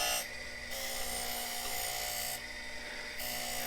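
A Harig Super 612 surface grinder, just brought out of storage, grinds a part: two loud rasping passes of the wheel against the workpiece over a steady, humming motor drone.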